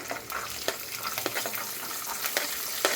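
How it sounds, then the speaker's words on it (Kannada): Peas sizzling in a hot pan, a steady frying crackle with intermittent stirring scrapes, close and moderately loud with no voices. "ಬಟಾಣಿ ಹಾಕ್ಕೊಳಕತ್ತೀನಿ"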